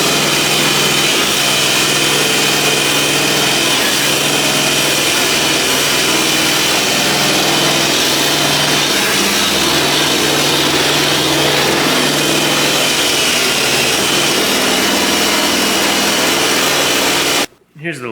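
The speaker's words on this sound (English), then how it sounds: "As you can see by me wire wheeling this." A wire wheel spun on a drill scours car metal on a 1970 Chevelle project, a loud, steady, harsh whirring grind that runs without a break for about seventeen seconds, then stops abruptly.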